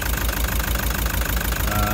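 Car engine with a cracked piston idling rough, a fast uneven knocking pulse over a steady low drone, close and continuous.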